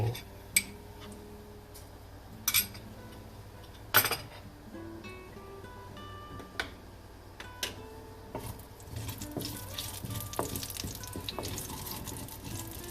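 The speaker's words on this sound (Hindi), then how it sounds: "ये थोड़ी सी अभी क्रैकलिंग होनी शुरू हो गई है" Nigella seeds (kalonji) in moderately hot oil begin to crackle, with scattered sharp pops and ticks over a soft low sizzle, sparse at first and growing busier toward the end.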